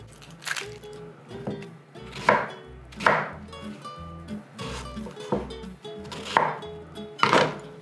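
A knife chops garlic and onion on a cutting board in a steady series of about nine close, sharp thuds, each followed by a brief clatter.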